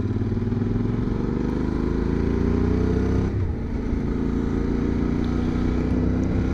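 A QJ Motor adventure motorcycle's engine drones steadily while riding, with rising pitch through the gears and a brief dip as it shifts before pulling hard again, close and loud with wind rush and no talking.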